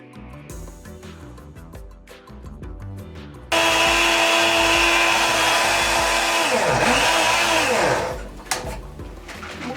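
An Arzum Shake'n Take personal blender whirs loudly and steadily for several seconds, mixing a detox juice, then its pitch dips and wavers as the load shifts before it winds down.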